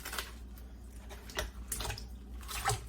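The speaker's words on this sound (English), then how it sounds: "So I'm just gonna pour the meat in." Meat poured into a pot holding plenty of water for a homemade meat pie broth, giving a few close, soft splashing and sloshing bursts against a low background hum.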